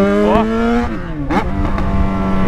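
A Yamaha XJ6 motorcycle engine revs hard and loud close by, pitch climbing and dropping through several sharp throttle blips over a rumbling idle.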